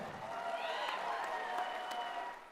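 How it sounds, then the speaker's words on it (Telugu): Audience at a Telangana cultural event applauding loudly on request, a steady continuous wash of clapping that swells and holds for a couple of seconds before tapering off, with faint voices mixed in. "మీరు గట్టిగా ఒకసారి చప్పట్లు కొట్టాల్సిందే"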